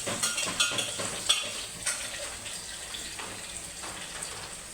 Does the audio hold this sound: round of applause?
no